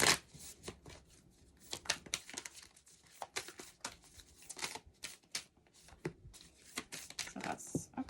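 Affirmation cards are shuffled by hand, with quick repeated riffling flicks and soft papery crinkles in close, brisk bursts, alongside a little quiet talking.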